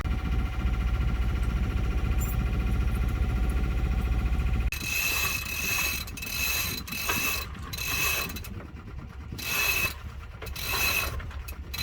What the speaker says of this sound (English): We got some wind, so we are hoisting the main.